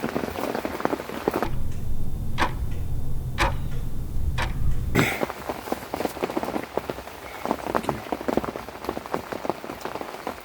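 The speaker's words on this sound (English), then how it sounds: "It's still hammering down with rain." Heavy rain hammering down on a bivvy shelter during an overnight carp fishing session, a dense, steady patter broken by a few sharp close taps and drips.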